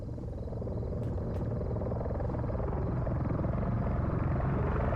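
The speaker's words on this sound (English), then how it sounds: "The helicopter." Helicopter in a naval combat game set in 1974, a steady rotor drone that holds loud and continuous throughout without speech.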